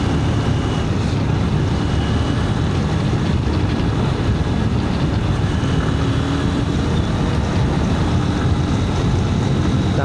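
A Bajaj NX200 2026 model motorcycle ridden fast on the road gives a continuous engine drone mixed with heavy wind rush, steady and unbroken throughout.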